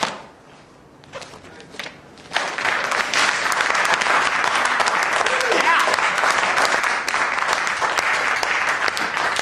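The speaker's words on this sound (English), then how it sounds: "Why am I clapping?" Audience applause after a speech, a few scattered claps in a quiet room that swell abruptly into loud, sustained clapping from the whole crowd, continuing steadily to the end.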